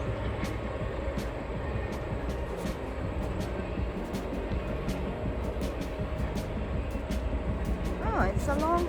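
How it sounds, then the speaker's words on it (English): A long freight train hauling goods rumbles by steadily, with continuous low roar and repeated rhythmic wheel clicks over the rails, fairly close, and a brief rising tone near the end. "There's the train."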